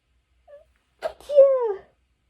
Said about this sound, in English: oh no, I have a sneeze coming